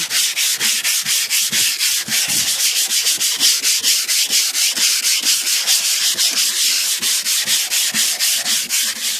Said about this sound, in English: this is part 3 of me sanding on my 1988 cadillac